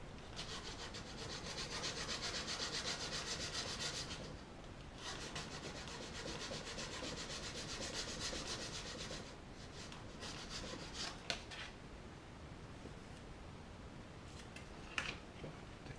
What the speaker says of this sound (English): I'm going to use this file to get the worst of it off.